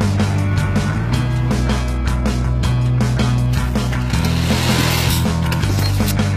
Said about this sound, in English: The pattern is then fed into the fully automated cutter, cutting the denim exactly according to specifications.